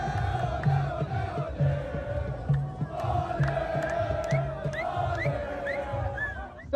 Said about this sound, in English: Celebratory scenes outside Al Bayt Stadium on Monday night as Palestinian fans cheer their team's last-minute 1-0 victory over host Qatar